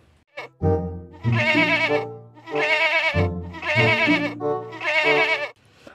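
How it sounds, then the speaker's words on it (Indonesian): A sheep bleats again and again, giving about five loud, wavering calls in close succession with short gaps between them. "Di sini ada domba teman-teman."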